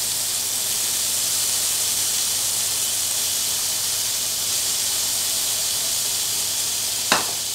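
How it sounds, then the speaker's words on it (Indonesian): Bitter gourd stir-fries in a pan with a steady, even sizzle that hisses throughout, and a single sharp clink comes near the end. "Kita tumis sampai sedikit layu."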